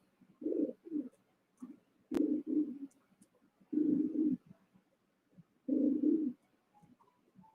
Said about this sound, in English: Yeah, I like birds.